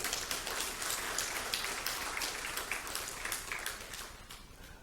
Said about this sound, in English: Give you a round of applause for Commissioner Kelly,